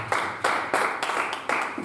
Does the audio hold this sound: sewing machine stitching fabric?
no